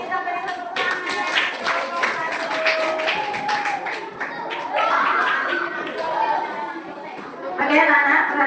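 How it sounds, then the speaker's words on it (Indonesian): Children in a classroom give a round of clapping that is bright and scattered, with voices and chatter mixed in and rising again near the end. "Kita beri tepuk tangan."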